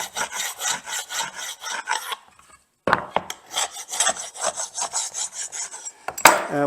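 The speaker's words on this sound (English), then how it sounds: "it's easy enough to scrape the excess glue off at this point" Excess wood glue being scraped off glued wood pieces for a DIY Christmas tree, a steady rhythmic rasping scrape close by, with a brief pause midway before the strokes resume.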